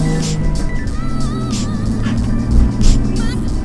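A Nissan 350Z fitted with an upgraded lower control arm and a new flywheel drives along on a test drive, its engine and road noise steady and close throughout, swelling slightly near the end.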